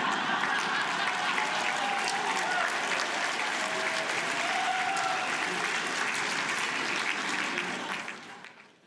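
Sustained, dense applause from a book festival dinner audience in Arizona, a loud, even roar of many clapping hands that holds steady, then fades at the end.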